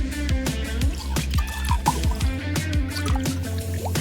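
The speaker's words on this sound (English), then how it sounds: "things are really starting to bubble" A potion being mixed in a paper gamebook activity, producing rapid liquid drips and bubbling plinks in a busy, rhythmic patter that stays close and fairly loud throughout.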